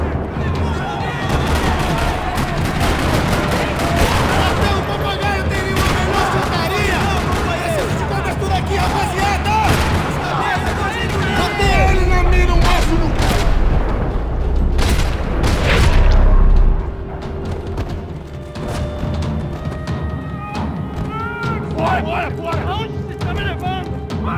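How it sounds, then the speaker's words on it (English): Bursts of gunfire and heavy booms crackle through a dense Max Payne 3 battle in a parking lot, with rapid shots and explosions layered over voices and music. "Another parking lot rattling with gunfire."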